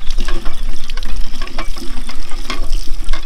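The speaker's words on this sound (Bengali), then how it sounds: "হ্যাঁ সাদা বোতল ভরুন একটা।" Water gushes steadily and loudly into a white bottle in a Sundarbans village, a continuous close splashing fill with no pause.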